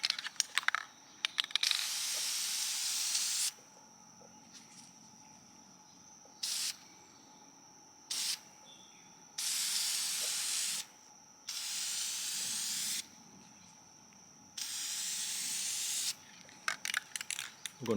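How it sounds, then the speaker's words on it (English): PJ1 foam filter oil sprays from an aerosol can onto a lawn mower's foam air filter in several hissing bursts of varying length, separated by short quiet gaps, close and moderately loud. "I'm just going to spray a coat on it."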